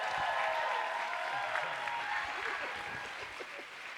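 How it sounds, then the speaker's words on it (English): A large crowd at an awards evening applauds John Oliver, a full, sustained wash of clapping that holds steady throughout and fades only slightly toward the end. "And while we're applauding John"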